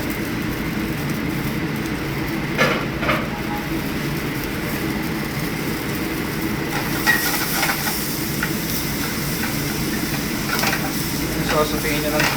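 Garlic sautéing in a pan for Spanish paella, a continuous loud sizzle and crackle with occasional scraping stirs, close by, with a voice talking briefly in the background.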